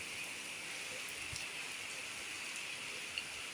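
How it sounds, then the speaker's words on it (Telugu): Steady, dense heavy rainfall in Ongole with a constant hiss, close by and fairly quiet, with no voices. "మంచి వర్షం"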